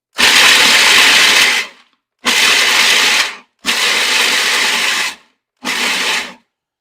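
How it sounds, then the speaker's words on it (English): A food processor chopping cashews roars loudly in four bursts, three long and one short, separated by short silences, with a harsh whirring, rattling grind of nuts against the blade. "get out the food processor and start chopping these cashews"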